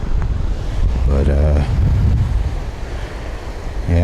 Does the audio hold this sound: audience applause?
no